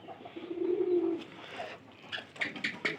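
A pigeon from a newly housed pair in a home loft gives a soft, low coo, followed by a few faint, brief higher bird calls; quiet and somewhat distant, with no talk.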